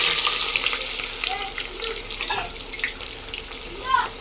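Onion frying in hot oil with whole spices and bay leaf for chicken pulao, a steady hissing sizzle with light crackles and pops, close and fairly loud with no one speaking.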